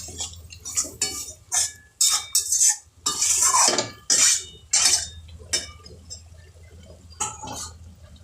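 Cutlery scraping and clanking against a cooking pot while Kashmiri chilli powder and spices are stirred and fried for a Bengali mutton curry, in repeated loud bursts over a low steady background hum.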